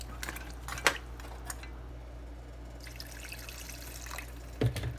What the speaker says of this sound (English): I'm gonna be throwing in water.